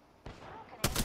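Two loud, sharp shots ring out in quick succession during a video game firefight, the second heavier and closer to the listener.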